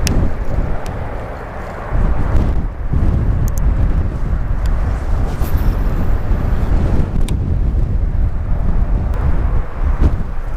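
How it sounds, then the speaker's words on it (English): Strong wind buffets the microphone at a spring bank-fishing spot, producing a loud, rumbling roar that never lets up and surges after the first couple of seconds. "Wowzers, it is windy."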